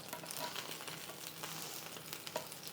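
Sausages frying in a hot pan for an Irish breakfast give a steady, dense sizzle with small crackles and pops, moderately loud and close, with no talking.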